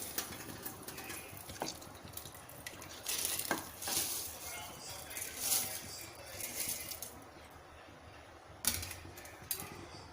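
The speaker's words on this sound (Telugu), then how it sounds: "ఇప్పుడు మనం రైస్ అండ్ పెసరపప్పు ఇందులో యాడ్ చేసుకోవాలి." Rice and moong dal poured into a pot of boiling water for khichdi, a quiet rustle and patter of grains with a few metallic clinks against the pot.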